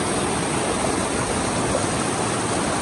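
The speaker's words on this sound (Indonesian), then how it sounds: "kita menyeberangi sungai menuju ke dasar dari Coban" Rushing river water near Tumpak Sewu waterfall in Indonesia, a dense, constant broadband roar close by with no breaks and no voices.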